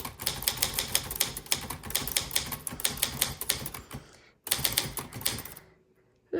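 Rapid, dense typing on a 1966 Olivetti-Underwood 21 manual typewriter, with clacking keystrokes that come in bursts, a brief pause and then more typing before it trails off, close and clear.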